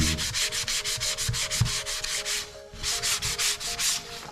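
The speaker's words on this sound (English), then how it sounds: "And this gives you a very even sand, a little bit of fine sandpaper." Fine sandpaper rubbed briskly over a leather belt in steady back-and-forth strokes, a close, loud scratchy rasp repeating about four times a second with a short pause midway.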